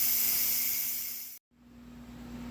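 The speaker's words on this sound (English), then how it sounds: "Now we're releasing the steam." A steady broadband hiss of steam venting from an Instant Pot on quick release, loud and continuous, with a steady low hum underneath and a brief cutout midway before the hiss resumes.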